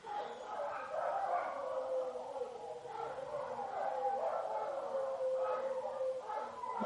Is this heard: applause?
no